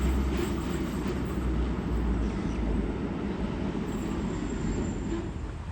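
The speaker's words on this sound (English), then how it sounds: "There's the City via Regent's Park train." A Sydney Trains passenger train rumbles past nearby with a steady, loud low roar and faint rhythmic clatter of wheels on rails throughout.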